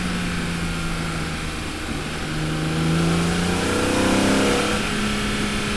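A BMW E46 M3 pulls hard under brisk driving, its engine note climbing steadily in pitch and growing louder as it accelerates, with a steady road and cabin roar beneath and no talking.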